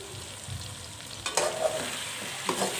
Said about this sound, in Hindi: मसाले को भून लेंगे